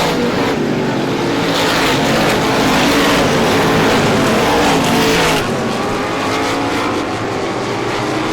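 Race cars on the front straightaway at a star classic oval race, a loud continuous engine roar of several cars passing close together, with no talk over it.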